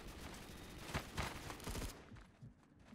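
Several sharp gunshot cracks in quick succession in the Roblox game Phantom Forces over a busy background, loud and close, then the noise thins out after a couple of seconds.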